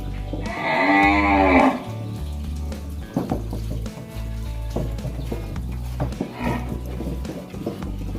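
A cow gives one loud, drawn-out moo near the start while cattle feed on straw from a net, followed by quieter rustling, chewing and shuffling sounds close by.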